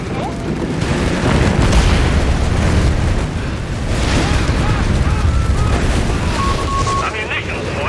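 Explosions and gunfire in a Company of Heroes 3 battle rumble continuously, dense and loud, with booming blasts and overlapping shots filling the whole stretch.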